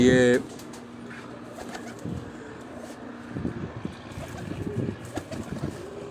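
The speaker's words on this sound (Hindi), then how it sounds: "ये कबूतर को देखें, बोल भी रहा है माशाल्लाह" A pigeon coos softly in several low, throaty bursts, close by, with a brief noise at the start and quiet ambience between calls.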